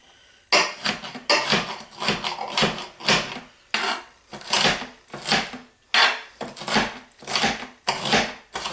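Cabbage, carrots and onion scraps chopped quickly with a knife on a board, a steady run of loud, close, rhythmic whacks and scrapes for coleslaw.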